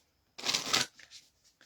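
A well-worn, slightly crumpled deck of Atlantis oracle cards is shuffled once, a close, crisp riffle of papery flutter lasting about half a second, then a few soft card taps.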